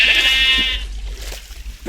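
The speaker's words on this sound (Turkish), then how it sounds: "Demin bir tane koyun sesi duydum." A sheep bleats in Minecraft, one drawn-out nasal bleat up close at the start, followed by fainter game sounds and light clicking.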